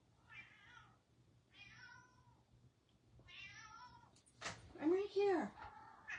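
A house cat meows repeatedly in drawn-out calls, near and fairly loud, with a person briefly speaking between the cries.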